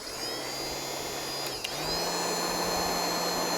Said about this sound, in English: This is not a hair dryer. This is an industrial heat gun.